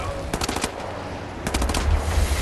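Rapid bursts of submachine gun fire in the video game Wolfenstein: The New Order, two close, loud rattling volleys over constant low game rumble.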